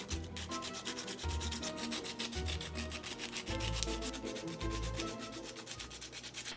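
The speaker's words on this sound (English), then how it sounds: "But now we just need to sand away any blemishes." Rhythmic back-and-forth sanding strokes scrub blemishes off a 3D-printed figure, close and steady, each rasping pass following quickly on the last.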